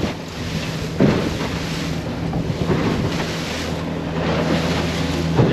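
Strong wind buffets a small boat about 20 nautical miles offshore in rough weather, producing a constant loud roar of gusts and choppy sea around the hull, with no talking.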